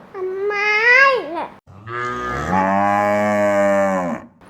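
A child imitates a cow's moo twice, a wavering drawn-out call followed by a longer, steadier moo.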